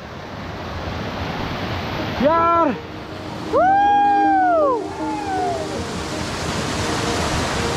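Rushing water of a cold mountain stream, a steady broad wash of flow heard close by, with brief voices talking over it partway through.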